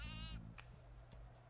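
A sheep bleats once in the What the Golf? video game, a short wavering cry up front followed by faint game sounds.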